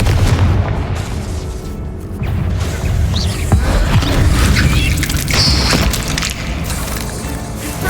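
Booming blast of the Confringo fire spell in Hogwarts Legacy, loud and dense, set among continuous game combat noise and rumbling effects.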